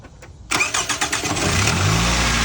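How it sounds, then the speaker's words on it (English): A high-mileage Toyota Camry engine with a newly changed coil pack cranks with a quick series of rhythmic turns, then catches and settles into a steady, loud idle. "Can you start the car, please?"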